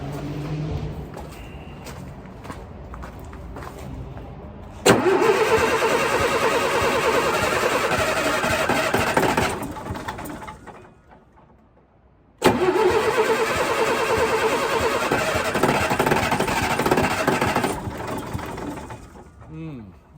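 A Leyland Atlantean bus engine cranks on the starter in two long bursts, loud and steady, each running for several seconds and separated by a short pause, with faint background noise around them.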